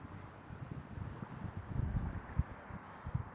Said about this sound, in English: The wind is picking up, man.